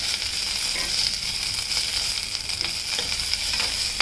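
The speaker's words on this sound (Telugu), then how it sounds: "వేయించుకోవాలి" Ajwain leaves frying in a pan for a pickle, a continuous close sizzle with crackling pops and occasional stirring scrapes, no voices.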